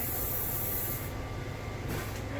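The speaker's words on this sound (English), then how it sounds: "We're going to spray in the bottom of these." Cooking pan spray hisses in a steady, close, continuous burst into the bottom of baking pans for a key lime pie, with a brief break near the end before spraying resumes.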